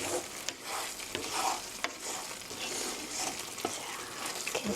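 Mapo tofu is stirred in a hot pan with salt mixed through, a soft scraping stir over a steady low sizzle with a few light clicks of the utensil, close and fairly quiet.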